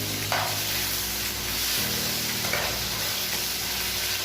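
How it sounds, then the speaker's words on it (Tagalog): Beef pieces sizzle steadily in a hot pan for beef mechado while being stirred, a dense continuous frying hiss with soft scraping strokes, close and alone with no voices. "isutay-sutay lang natin guys hanggang mawala ang ating fresh ng ating beef"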